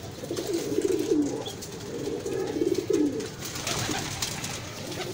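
Breeder pigeons at a loft in Bhati Gate, Lahore, cooing in soft, repeated rolling phrases, fairly faint over a steady background hiss and rustle, with no one talking.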